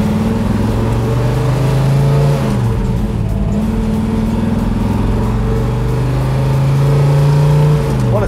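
A 1969 Plymouth Roadrunner restomod with a big block B-body Mopar engine revs loudly and close by, its deep exhaust note rising and holding through several throttle swells.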